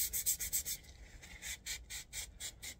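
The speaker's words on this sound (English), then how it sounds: "So if I'm just rubbing that, oh yeah, wear gloves for this." Gloved hand rubbing a dirty metal cylinder head, a run of short, dry, rasping strokes in quick rhythm, fairly faint and close, with no talk.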